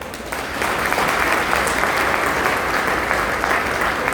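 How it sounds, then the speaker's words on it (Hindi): Audience at an award felicitation ceremony breaking into applause, a thick, steady roar of many hands clapping that builds quickly and holds loud and continuous for several seconds. "अरे बजा लीजिए ताली भाई।"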